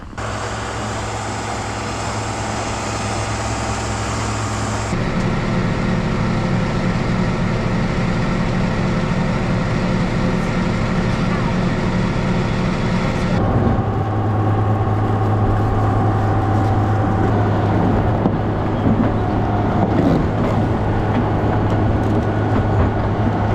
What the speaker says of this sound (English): I'm gonna go back to the tractor and then we'll empty this last load for the cows